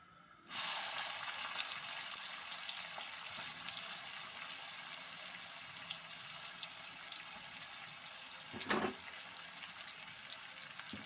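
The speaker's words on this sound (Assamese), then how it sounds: "পিঁয়াজখিনি ৰঙা হোৱাকৈ ভাজি লওঁ।" Chopped onions with ginger and three slit green chillies sizzle steadily in hot oil in a pan for an Assamese meat curry, starting abruptly and holding an even, close hiss with one brief louder clatter near the end.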